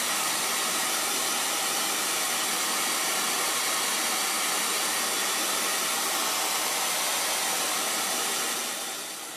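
A hair dryer runs steadily close by to dry fresh paint on a painting, a loud constant blowing hiss that fades slightly at the end with no speech.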